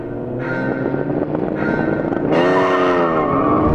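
Japanese GT race cars, a Honda NSX among them, launch off the line together, engines revving high and rising sharply in pitch, then swelling into a loud, layered roar.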